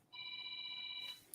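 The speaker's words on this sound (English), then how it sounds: "Is that my phone ringing?" A mobile phone rings in a room with a faint electronic tone held for about a second, quiet and alone, with a short click at the end.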